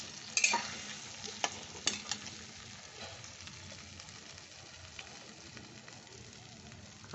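Cauliflower curry with spices stirred in a pan, a few sharp utensil scrapes and knocks early on, then a quiet, steady sizzle, close and without talk.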